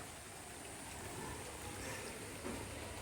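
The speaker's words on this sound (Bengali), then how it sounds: "আর এই যে আবার বৃষ্টি আরম্ভ হয়ে গেল" Rain falling during a monsoon day at a home in Bengal, a steady, soft broadband patter that holds evenly throughout with no voices.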